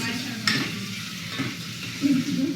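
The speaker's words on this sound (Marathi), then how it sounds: "हा कांदा टॅमॅटो पण चांगला मस्त शिजूपर्यंत फ्राय" Onion and tomato fry in a pan for homemade pav bhaji, with a low, steady sizzle under brisk spatula stirring and a few clacks against the pan. No talk is heard.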